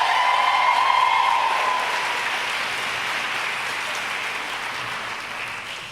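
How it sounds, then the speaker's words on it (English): An audience gives a round of applause for Jen Jolicoeur, a steady wash of clapping that starts strongest and slowly fades over several seconds, with a brief high tone near the start. "I think we all need to give a round of applause to Jen Jolicoeur"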